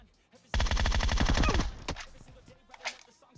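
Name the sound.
rapid gunfire in PUBG Mobile video game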